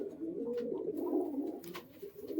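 Madrasi pigeons coo faintly and low, a steady murmuring call heard up close in a quiet setting with no voices.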